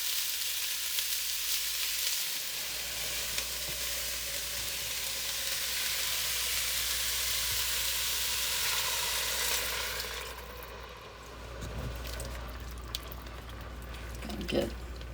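Celery sizzles in a soup pot for Italian wedding soup, a steady close hiss of frying that softens near the end, with a brief utensil clink and faint background sounds.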